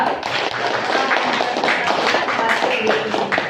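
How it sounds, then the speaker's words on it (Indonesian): Classroom applause for a student group after its presentation, a busy, uneven burst of many hands clapping nearby that runs unbroken for several seconds. "Silakan beri tepuk tangan untuk kelompok 2"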